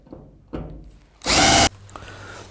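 A power drill whirs loudly in one short burst, drilling a hole in a door after a couple of softer knocks, then stops, leaving a faint hum.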